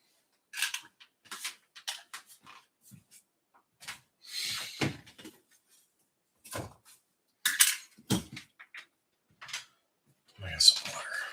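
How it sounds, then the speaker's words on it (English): A plastic water bottle is handled roughly, giving a series of sharp, loud crinkling and clattering bursts in irregular clusters close by, separated by near-silence. "I don't know why my water bottle was so loud that time."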